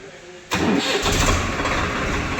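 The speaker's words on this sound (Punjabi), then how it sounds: "ਦੇਖਿਓ ਆਵਾਜ਼ ਸੁਣਿਓ ਟਰੈਕਟਰ ਦੀ" Swaraj 855 tractor engine cranking and catching half a second in, then settling into a loud, rough diesel idle close by.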